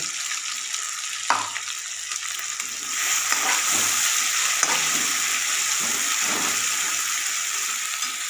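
Paste-rinse water poured into a curry of sprouted moth beans cooking in a pan after a mustard-seed, cumin and curry-leaf tempering, giving a steady close sizzle and bubbling hiss with faint stirring clinks.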